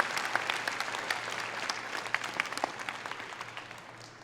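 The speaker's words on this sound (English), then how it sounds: "Let's give them one more round of applause." Applause from the audience at a community college commencement ceremony, a broad sustained round of clapping with scattered sharper claps, gradually thinning toward the end.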